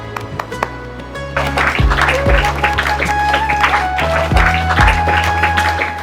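Applause welcomes a guest at a school event, a sustained crowd clapping that swells in after a second and carries on over thumping music beneath it.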